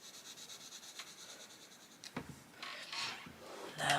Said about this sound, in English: Colouring between these bits is a little bit fiddly